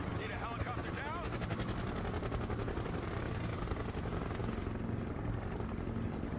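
A military helicopter in the real-time strategy game Broken Arrow makes a continuous, dense rotor and engine drone. It holds at one level the whole time, with faint rattling bursts like distant gunfire mixed in.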